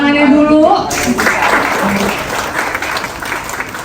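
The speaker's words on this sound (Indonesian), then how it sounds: "saya boleh minta tepuk tangannya dulu" An audience applauds at a self-defense and tactical mindset event, a loud burst of clapping that starts after a brief tone and a voice, then continues steadily and thins slightly toward the end.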